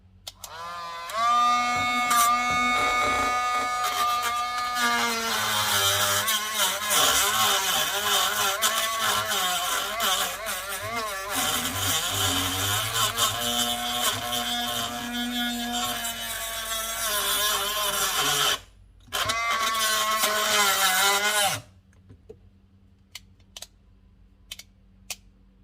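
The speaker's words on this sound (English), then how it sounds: "Not a very good Dremel." A weak Dremel rotary tool whines at high pitch while grinding on Jeep XJ door hinge pins, running with wavering speed for about twenty seconds, cutting out briefly, then stopping with a few faint clicks.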